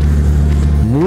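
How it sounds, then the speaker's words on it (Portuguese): Engine noise from motorcycles passing on a road, a loud steady drone with a pitch that climbs near the end, heard from close by. "Muita moto."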